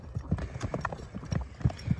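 A Kyrgyz horse walks at a steady pace, and its hooves strike hard ground in an even clip-clop rhythm. The hoofbeats sound close and moderately loud, with faint voices in the background.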